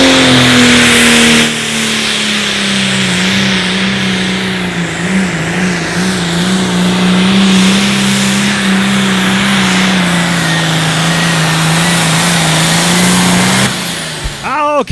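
A John Deere pulling tractor at an outlaw tractor pull, light limited pro stock class in David City, Nebraska, roars loudly and steadily at high revs for a long stretch, with an announcer's voice over it.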